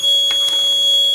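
An Arduino RFID access control alarm sounds as a steady high electronic tone with a couple of faint clicks over it, loud and continuous with no talk.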